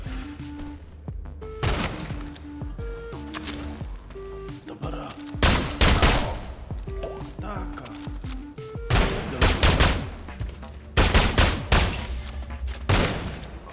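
Pistol gunfire in the video game SULFUR cracks out in rapid clusters of sharp shots, several bursts close together and loud, spaced by short pauses over steady low game tones.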